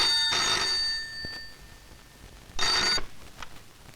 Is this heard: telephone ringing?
yes